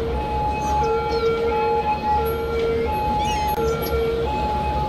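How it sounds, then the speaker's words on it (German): Ambulance siren from the Cities: Skylines city-building game, a steady wailing two-tone pattern repeating at moderate distance over a constant dense hum of city traffic, with no talking. "da ist ein Krankenwagen"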